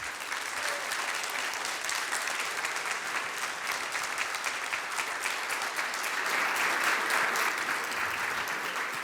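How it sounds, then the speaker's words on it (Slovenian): Sustained audience applause at a regional chamber of commerce innovation awards ceremony, a steady dense wash of clapping lasting throughout and swelling slightly near the end. "Tale aplavz je namreč namenjen vam."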